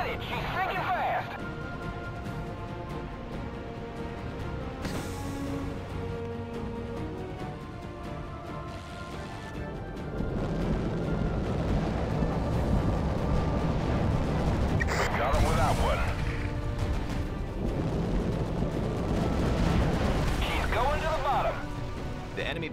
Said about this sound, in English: Battleship has been destroyed